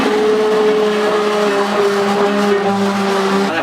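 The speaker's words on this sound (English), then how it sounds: "either you can use an awesome immersion blender like this" An immersion blender purees a milk and vegetable cheese sauce with a loud, whirring motor whine that holds steady and shifts pitch slightly partway through.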